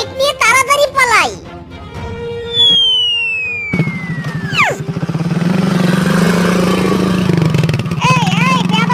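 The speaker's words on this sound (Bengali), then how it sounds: "বাইক নিয়ে তাড়াতাড়ি পালাই।" A cartoon motorcycle, stolen by a fox making a getaway, roars into life after a burst of excited voices, with a rising whoosh sweeping into a loud, steady engine drone that holds to the end.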